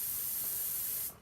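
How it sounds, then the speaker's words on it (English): Airbrush spraying a light mist of paint, a steady bright hiss lasting about a second before cutting off abruptly, close and alone. "This is just a little bit of light mist for a transition."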